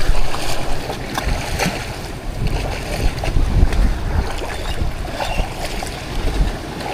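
A fishing boat out on the Pacific after tuna rides rough sea with waves about five feet high; loud, continuous wash of water and wind buffeting, with thumping hull slaps throughout and no voices.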